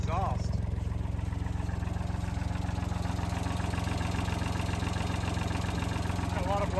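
A Ford 2600 tractor engine with heavy blow-by runs steadily nearby, a continuous low, throbbing idle with even rhythmic pulses and no pauses.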